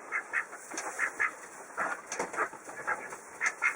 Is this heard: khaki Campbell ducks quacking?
yes